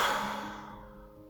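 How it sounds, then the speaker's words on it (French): A single forceful exhale after a held breath, a breathy rush of air close to the mic that fades away over about a second in an otherwise quiet room. "Bloque ta respiration un instant et souffle fort."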